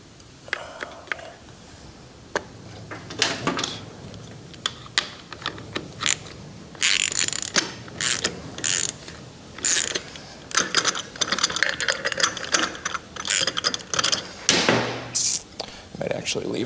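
Ratchet clicking in short bursts while loosening the clutch nuts on the inner primary of a 1974 Harley-Davidson Superglide Shovelhead motorcycle, with metallic clanks and tool handling scattered through the passage at close range.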